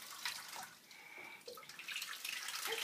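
Bath water splashing and trickling around a baby playing with bath toys in a tub, a steady close wash of running and sloshing water with small splashes throughout.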